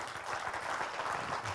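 Audience applause for the startup Uptraded at the Startup World Cup Austria 2022 finale, a steady burst of clapping from a crowd lasting a moment with no talk.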